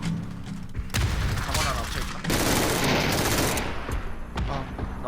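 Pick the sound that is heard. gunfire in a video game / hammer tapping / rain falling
gunfire in a video game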